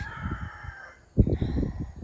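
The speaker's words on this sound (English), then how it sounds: "Roosters." A rooster crows in a garden setting, a drawn-out call that is fairly faint and distant, followed by another crow that starts suddenly and sounds louder and rougher.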